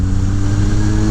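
A 2000 Kawasaki ZRX1100 motorcycle engine runs close and steady for about a second, with a loud, even, rumbling drone and no speech.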